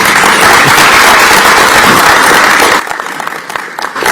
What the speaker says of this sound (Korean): 이 자리에 있는 우리 후보들께도 박수를 한번 보내드립니다